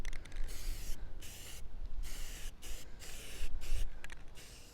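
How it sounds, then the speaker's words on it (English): Spray paint hisses onto the sway bar of a 1992 Toyota 4Runner in several short and longer bursts with brief pauses, close and fairly quiet. "Just spray it on there."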